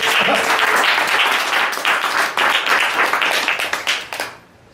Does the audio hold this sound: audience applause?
yes